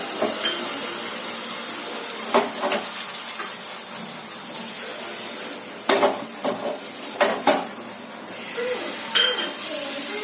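Thin crepe batter for chicken cheese crepes cooks in a hot pan on medium heat, giving a steady broadband sizzle with a few brief scraping clicks and utensil taps scattered through it.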